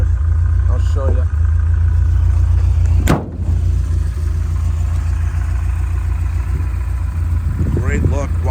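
A 1978 Porsche 924 fitted with an Optima battery runs steadily at close range, its low engine note holding through the clip with one sharp transient partway in, and a voice breaking in briefly near the start and end.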